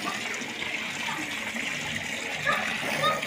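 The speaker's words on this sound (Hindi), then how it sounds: "अम्मी जो है ना साग धो रही हैं" Mustard greens (saag) being washed by hand in a tub of fresh water: continuous sloshing and splashing, close and fairly loud, with a voice talking underneath.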